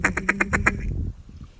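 A duck call imitating feeding ducks on the water gives about six rapid, loud quacks in a quick run, then trails off into softer chatter.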